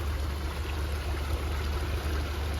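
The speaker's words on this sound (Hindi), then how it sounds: "ये देख रहे हैं चश्मे का पानी आ रहा है यार ऊपर से।" Spring water pours down from the hillside above onto a village path in the Swat valley, a steady rushing wash of flowing water heard close and continuous, with no voices over it.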